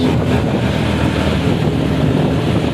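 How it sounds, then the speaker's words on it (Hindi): Steady rain falling in blustery wind, a dense continuous hiss and rush that stays loud and unbroken throughout, with no voices. "बारिश आने लग गई है, देखो पानी जो है बूंदे गिर रही हैं"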